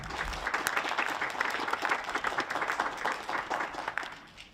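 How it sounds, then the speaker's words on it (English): A school assembly audience of students claps together in lively applause, uneven individual claps audible within the crowd, sustained at a fairly even level before tapering off at the very end. "can we give it a round of applause?"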